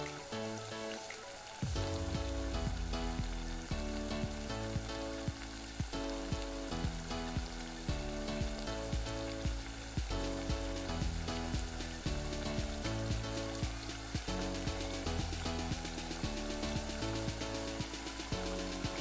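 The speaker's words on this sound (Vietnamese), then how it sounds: "Mình thả phần bánh khoai lang vào chảo dầu đang sôi này." Steady crackling sizzle of sweet potato cakes frying in hot oil, with music playing softly underneath throughout.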